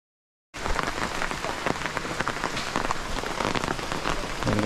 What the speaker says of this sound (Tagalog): Talaga pong ayaw tigilan ng ulan.